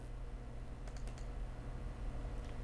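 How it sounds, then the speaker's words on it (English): A computer mouse or keyboard gives a few quick, light clicks close by against a steady low background hum, with no talking. "And I'm going to click this one right here."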